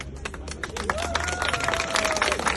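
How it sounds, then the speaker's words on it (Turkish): An outdoor protest crowd at the Dikmen gate of Turkey's parliament claps for itself: scattered, uneven clapping with sharp individual claps, mixed with crowd murmur and a sustained voice or whistle-like tone running through the middle. "önce bir kendinizi alkışlayın"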